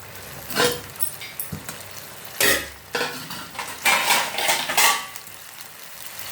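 A spoon scrapes and clatters through a beans stir-fry in a pan, giving a series of close, irregular stirring strokes over a soft sizzle, followed by metallic clinks as a lid is put on.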